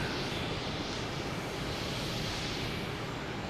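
A Porter airliner at Boston Logan Airport gives off a steady, broadband jet roar that holds evenly throughout, sounding fairly distant and wind-like with no talk over it.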